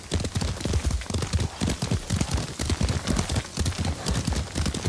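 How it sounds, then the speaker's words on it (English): Horse hooves clip-clop steadily at a riding pace in the Ghost of Tsushima video game, a close, even rhythm of hoof strikes heard alone without voices. "Lord Sakai taught me to ride a horse."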